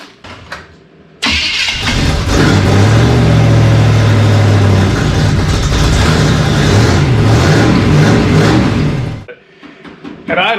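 Engine of a half Dodge truck, half 1957 Cadillac build cranks and catches about a second in, then runs loud and steady with a deep rumble for roughly eight seconds before cutting off.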